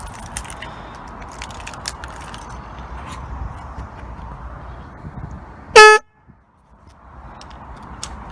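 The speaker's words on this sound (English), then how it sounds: "It's just sounds more like a car horn and not like the high pitched ones that are normally on bikes." Keys jingle and rustle close by for several seconds before one short, loud blast sounds from an aftermarket car-style horn on a Lexmoto Venom 125 motorcycle. A brief silence follows, then the faint rustling resumes.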